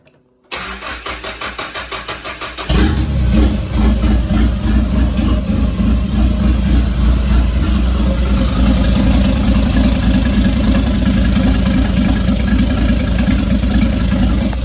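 A car engine in a Starquest project, just fitted with a connected fuel pump, cranks for about two seconds, catches loudly and settles into a steady, rough idle close by.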